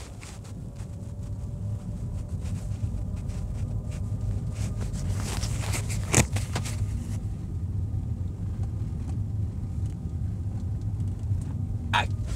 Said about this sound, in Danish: Der er masser af brosten, de er ujævne, og jeg har tænkt mig at lave min rasletest.